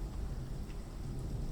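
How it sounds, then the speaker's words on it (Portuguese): Rain falls steadily on a rainy night, a dense hiss with a deep low rumble of thunder rolling underneath through the short stretch, even and unbroken, with no voices. "Devagar e com o som da chuva, dormi."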